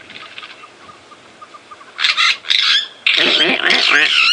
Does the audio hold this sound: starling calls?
yes